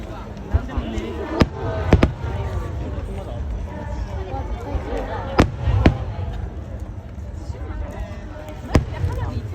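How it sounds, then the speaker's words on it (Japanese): Fireworks burst at the 2025 Itabashi fireworks festival, heard from a paid seating area: several sharp, loud bangs, some in quick pairs, ring out over a steady murmur of crowd chatter and voices. "マジで花火いっぱいやろ"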